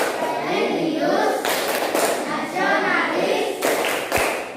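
A primary school class performs the Tepuk PPK clap routine in a classroom, with bursts of rhythmic group clapping mixed with children's chanting voices throughout.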